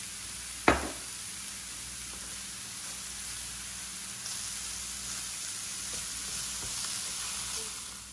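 Tofu stir fry sizzles steadily in a pan with a soft hiss, opening with a sharp clack of a utensil on the pan, followed by faint occasional stirring scrapes.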